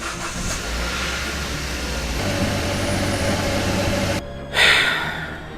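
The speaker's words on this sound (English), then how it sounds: "after trying and changing various components, the misfire still remains" Kia Ceed GT engine running with a misfire, a close, loud uneven idle with a rough, lumpy pulse, then a brief dip and a quick rev before settling again.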